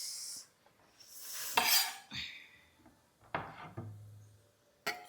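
A spoon stirring tomatoes into dal in a pot, giving a few scattered scrapes and clinks of metal against the pot, quiet and separated by pauses.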